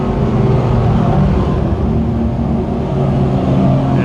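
Speedway race cars roar down the back straightaway of the Can-Am Speedway during a heat race, a steady loud engine drone with layered harmonics from several cars running together, no speech.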